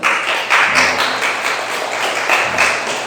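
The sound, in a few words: congregation applause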